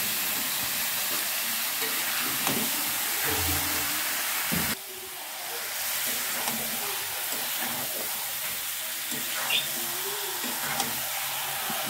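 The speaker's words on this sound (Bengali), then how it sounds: "এবার ভালো করে মাংসগুলোকে মশলার সাথে মিশিয়ে নেব।" Duck meat frying in spices as it is stirred and mixed, giving a steady, broad sizzle with occasional scraping stir sounds, close and continuous; a brief drop in level partway through, no talking.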